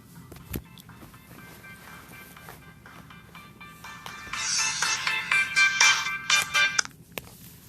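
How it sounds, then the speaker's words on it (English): An old flip phone rings with a repeating electronic ringtone melody, moderately loud and close, playing for several seconds before cutting off. "it was my old phone, my old flip phone"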